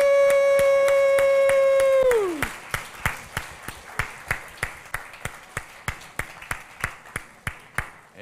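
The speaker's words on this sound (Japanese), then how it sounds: "拍手。" Rhythmic, evenly timed clapping from an audience at a church service after a children's ballet performance, following a sustained tone that cuts off; the claps continue steadily to the end.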